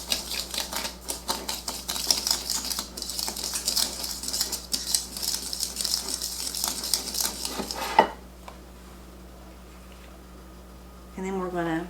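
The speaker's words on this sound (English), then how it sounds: "we're going to blend the dry ingredients, which will be really easy because it's just the sugar and the spices. Stir those up a little bit." A spoon clinks and scrapes quickly against a bowl while sugar and spices are stirred together, a dense rhythmic rattle lasting about eight seconds, then near silence before a short bit of speech.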